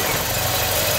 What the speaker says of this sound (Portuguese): motor montado, vamos lá, a primeira partida